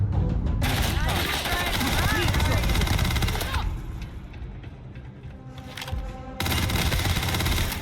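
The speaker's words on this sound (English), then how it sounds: "Lay down some cover fire!" Gunfire in Starfield crackles in dense, rapid automatic bursts, loud and close, broken by a short lull before another heavy burst of shots.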